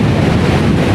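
Big waves pound the shore during a surfcasting fishing trip, a loud, continuous broadband roar of surf and wind with no pauses and no voices.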